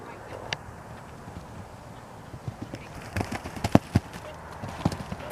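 Horses' hooves clip-clop as a couple of horses are ridden out for a hack, irregular hollow knocks that are faint at first and grow louder and more frequent, over quiet outdoor background.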